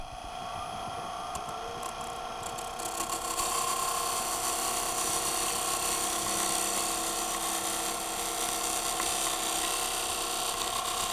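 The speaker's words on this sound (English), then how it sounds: "I'm going to use a spindle gouge just to cut this bottom." Spindle gouge cutting the bottom of a turned wooden bowl on a lathe, a steady high whine and scraping hiss that grows louder after a quieter start, continuing without talk.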